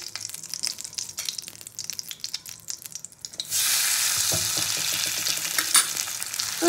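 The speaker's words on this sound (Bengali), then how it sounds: "তো এই মাছগুলোকে উল্টে পাল্টে আমি ভেজে তুলে নেবো।" Prawns drop into a hot kadai about halfway through, and quiet clinks and taps give way to a sudden loud, steady sizzle with occasional stirring clatter; no voices.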